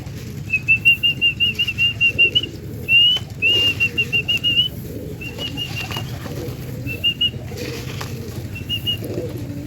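Pigeons in a home loft, one recovering from pox on its face, make several quick bursts of wing flapping with thin whistling tones, fairly close, then quieter fluttering toward the end.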